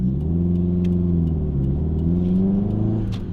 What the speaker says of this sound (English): because of that racing clutch, you've got to accelerate quite a lot to get any movement without stalling